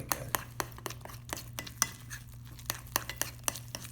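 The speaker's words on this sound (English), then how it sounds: "And we want to mix all this up really good" A utensil whisks sorghum or millet pancake batter with an egg in a bowl, clicking against the sides in a quick, steady rhythm, close up and with no voices.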